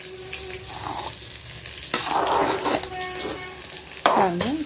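Soft scraping and clinking of a utensil stirring cooked ghee rice in a pot, in a few separate strokes, with a faint sizzle in the background.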